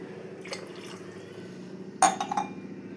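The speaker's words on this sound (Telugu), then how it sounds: "చూసారా త్రీ గ్లాసెస్ వాటర్ పోసాను" Water poured from a glass into a pot for chicken biryani, a quiet background hum and then a brief splashing pour near the end, with faint clinks before it.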